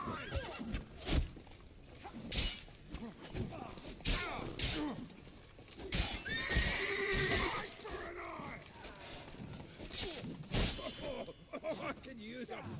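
A horse whinnies loudly several times with clip-clop hoofbeats and thuds in The Witcher 3: Wild Hunt, mixed with game effects and bursts of talk between the calls.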